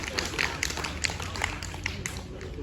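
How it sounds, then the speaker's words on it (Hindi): Audience claps at a 15 August Independence Day function, a thin, uneven patter of individual hand claps repeating steadily over a constant low background hum. "इनके लिए एक बार जोरदार तालियां।"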